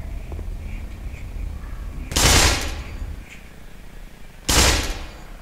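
Two loud bursts of in-game gunfire in the Black Mesa shooter, each lasting about a third of a second and roughly two seconds apart, over a steady low ambient hum.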